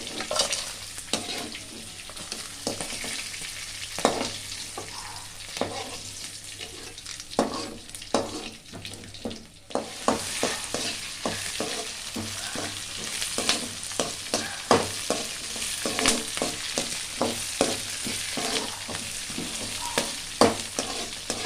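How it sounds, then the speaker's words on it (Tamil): Crab and prawns sauté in a pan with steady sizzling, punctuated throughout by the scrape and clatter of stirring, with no voices present. "வதங்கிடுச்சுன்னா எடுத்துடுறேன்"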